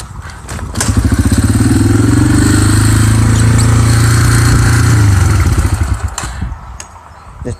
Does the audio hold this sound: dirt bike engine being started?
yes